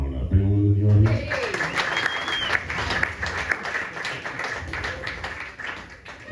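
An audience at a comedy festival bursts into sustained applause and clapping that persists for several seconds. Voices speak briefly over the start, and then the dense clapping carries on alone.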